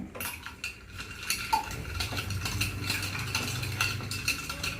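Homemade lemonade being stirred in a container, with a utensil clinking and scraping steadily against the sides for several seconds, close and fairly loud.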